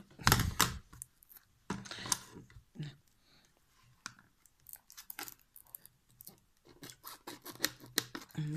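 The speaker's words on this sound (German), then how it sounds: "Ich nehme meine Schere." Scissors snip through packaging around a CD case, giving a series of sharp, irregular cuts and crunchy scratches close up, with short pauses between bursts.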